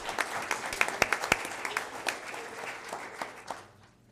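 Applause at a school board meeting as students, parents and a head coach are honored and leave the floor, a dense patter of clapping with sharp individual claps that fades out near the end.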